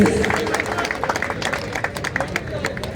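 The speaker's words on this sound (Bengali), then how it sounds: "সকলকে একটু দাঁড়ানোর জন্য অনুরোধ করতালি চাই প্লিজ" A seated crowd applauds at a football tournament ceremony, giving steady, dense clapping with background chatter, moderately loud and continuous throughout.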